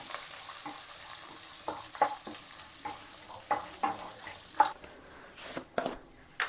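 Crushed garlic frying in a pan for Kannada-style khara pongal, giving a soft steady sizzle broken by a series of spatula stirs and scrapes, close and fairly quiet with no talking.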